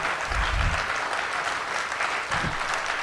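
Audience at a Hindi poetry recital claps steadily and loudly throughout, a dense continuous wash of applause with no voices on top.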